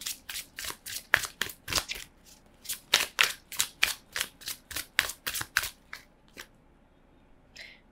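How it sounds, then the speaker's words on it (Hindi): Tarot cards being drawn and shuffled, a steady run of crisp riffling snaps and flicks in quick succession, close and fairly quiet, thinning out toward the end with no talking. "एक ही बार मैं सारे यहाँ पर कार्ड्स निकाल कर आप लोगों को बताने वाली हूँ"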